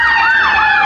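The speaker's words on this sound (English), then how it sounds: "Oh, this an ambulance." An ambulance siren passing close by on city streets in Inglewood, loud and wailing, its pitch sweeping and bending as the vehicle goes past.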